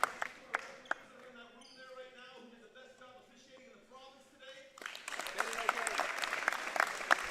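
Applause from the crowd at a boys' all-star basketball game during an MVP award presentation, with talk over the first half, then a steady, louder burst of clapping for the last few seconds.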